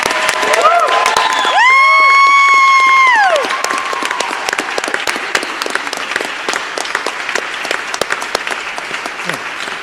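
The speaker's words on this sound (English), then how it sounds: "Give him a round of applause for that." Audience at a live peace song awards broadcast applauding and cheering, with loud, sustained clapping and a rising electronic whistle-like tone sweeping through early on before the crowd noise carries on alone.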